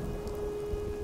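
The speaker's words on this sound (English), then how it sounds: "now it's a cold, raining Boston kind of day" Rain falling in a video game set on a cold Boston day, a soft continuous patter with a faint steady tone underneath, quiet and brief.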